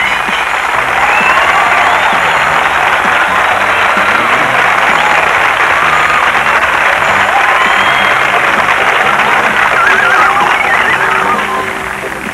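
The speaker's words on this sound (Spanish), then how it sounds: "Dos puntos más para María Rosa y atención porque ahora los aplausos, claro, son para Iñaki." A television comedy game show studio audience gives sustained, loud, dense applause, steady throughout with a little cheering mixed in and no voices on top.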